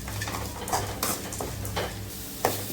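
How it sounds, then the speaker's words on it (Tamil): Gooseberries with salt and turmeric sizzle and crackle in a hot pan, with occasional scraping stirs and light clinks of a utensil, close by. "இப்போ நம்ம கொஞ்சம் உப்பும் மஞ்சத்தூளும் போட்டு லைட்டாக அந்த நெல்லிக்காய் போட்டு அப்படியே வதக்கிக்கலாம்."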